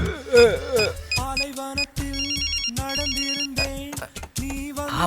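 A melodic electronic phone ringtone plays loudly and repeatedly, a bright looping tune with beeping tones, close to the listener.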